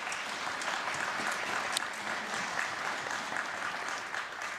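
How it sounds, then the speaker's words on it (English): Steady applause from a commencement audience, moderately distant and even, continuing for the whole stretch without voices. "Please give them a round of applause."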